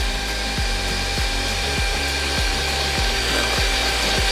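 A hand mixer at maximum speed whips red velvet cake batter with a loud, steady electric whine and a regular pulsing beat as the beaters cycle through the bowl.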